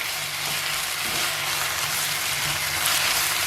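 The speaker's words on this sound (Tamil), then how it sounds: "இந்த கீரை நல்லா வதங்கி வந்துடுச்சு." Vallarai (brahmi) greens sautéing in a pan for dosa batter, a steady soft sizzle with faint stirring, close and even throughout with no talking.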